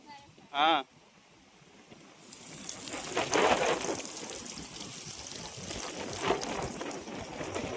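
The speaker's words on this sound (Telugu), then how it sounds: "వర్షం పడేటుంది" Rain falling steadily at an outdoor campsite, a dense hiss of drops that swells after a short voice near the start and continues evenly.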